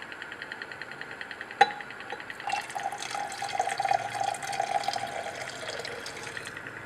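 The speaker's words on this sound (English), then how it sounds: "Now we're going to pour in our DCM solution of benzaldehyde." A dichloromethane solution of benzaldehyde poured into a stirred mixture in a lab, with a sharp knock followed by a steady trickling, gurgling pour of liquid, close and moderately loud.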